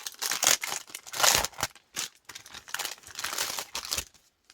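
Anna Griffin greeting cards and envelopes being shuffled and handled, giving close, bursty paper crinkling and rustling in uneven clusters with short pauses, no talking.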